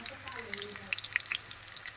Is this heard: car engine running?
no